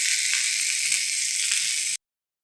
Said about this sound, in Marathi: आता आपण ग्रेव्ही बनवण्यासाठी अगोदर खोबरं आणि कांदा चांगलं भाजून घेऊया।